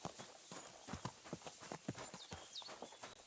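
Hooves clip-clop in a quick, irregular trot from a horse in the video game Kingdom Come: Deliverance II, fairly faint against a hissy background, with no voices.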